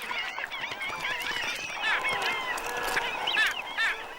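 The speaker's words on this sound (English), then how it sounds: "Birds take notice too." A dense flock of birds calls along Amazon waterways, overlapping honking and squawking cries rising and falling continuously at moderate distance, with no one talking.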